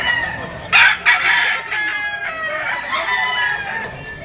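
A white-legged banderado Boston gamefowl rooster gives a single loud, close crow that stretches out and trails off over faint background noise.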